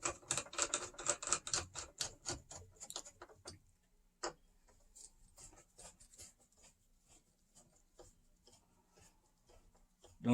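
Screws being tightened into a Onewheel Slider Pint X plate give a quick run of close, crisp clicks and ticks for a few seconds, then fade to near silence with a single later tick.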